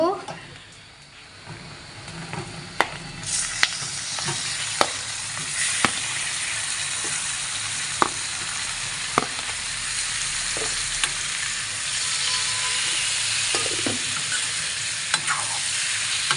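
Chicken for a simple Assamese chicken curry sizzles and fries steadily in a pan, a dense hiss throughout with scattered clicks and a spoon scraping, while a voice speaks quietly now and then.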